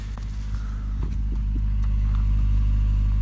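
A Honda JDM K24A engine with a fault idles on a 27-degree cold morning in Connecticut, a loud, steady low rumble up close with a few faint clicks and knocks over it and no talking.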